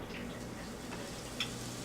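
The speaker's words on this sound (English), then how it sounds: "should start to hear that sizzle right away" Grilled cheese sandwiches sizzle in a frying pan with a steady, moderate crackle and a brief sharp tick near the end.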